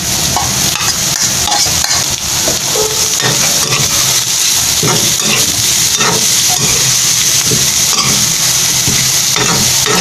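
Beef cubes fry in a pan with caramelized beef offal, giving a loud, continuous sizzle and hiss with steady stirring scrapes throughout.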